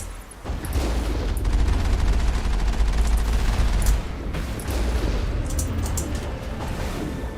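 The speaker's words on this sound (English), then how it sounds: "That's a lot of rockets." Rockets launching and bursting in the video game Mass Effect, a dense run of booming blasts and rumbling fire, loud and continuous, with a brief dip before the barrage resumes.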